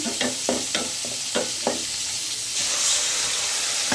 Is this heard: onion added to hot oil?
yes